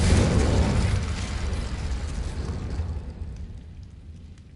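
A Confringo fire spell explodes in the Hogwarts Legacy video game, a loud broadband blast with a heavy low rumble that slowly decays over several seconds, heard alone without talk.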